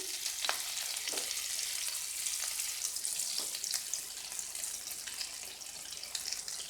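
A teaspoon of cooking oil and two tablespoons of butter sizzle in a frying pan, a close, continuous crackling hiss with scattered sharper pops and spits, heard alone without talk.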